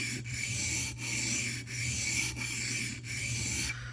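A mini cleaver's edge is drawn across a sharpening stone in steady, repeated rubbing strokes, about four full passes with brief pauses between them, close and clear with no talking.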